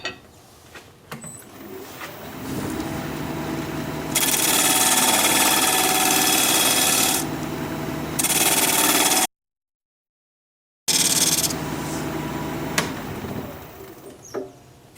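A 3/8 inch bowl gouge cuts into wood spinning on a lathe, giving a steady whirring hum that swells to a harsher, louder scrape during cuts, drops away for a moment of silence, then resumes.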